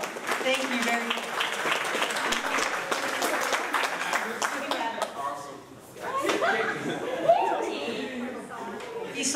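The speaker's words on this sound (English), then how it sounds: "Give our contestants a round of applause." Clapping from an audience rises and fades over several seconds, mixed with chuckles and scattered chatter, then voices talk as it dies down.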